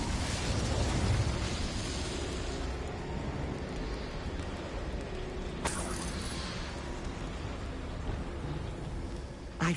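A fire spell is cast in a PS4 video game, giving a steady rushing, crackling roar like rain or flames, with a brief sharp burst in the middle, all at a moderate level without speech.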